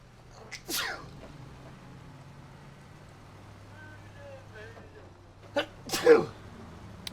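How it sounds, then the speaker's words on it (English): Two sharp sneezes burst out, one early and one near the end, over a low steady truck engine hum from the off-road driving game SnowRunner. "I apologize in advance for any sneezing."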